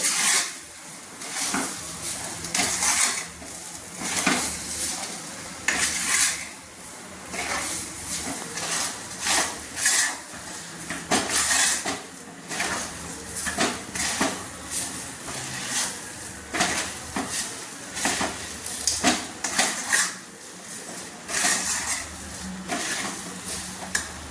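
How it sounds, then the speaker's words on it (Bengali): Chana dal filling for dal puri stirred in a pan, with repeated scraping and clinking strokes of a spoon against the metal in an irregular rhythm, close and moderately loud, with little talk. "দেখুন নাড়ছি পুরটাকে আমি জাস্ট ঝরঝরে করার জন্য"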